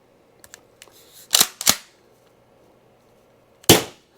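An Umarex HDX 36J pump-action launcher firing: a few soft clicks, two sharp close pops in quick succession, then a pause and a third loud pop, with no talking.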